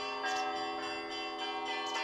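Small church bells, each weighing only a few kilograms, ring in a steady festive chime, with bright repeated strikes and sustained overlapping tones that carry clearly throughout.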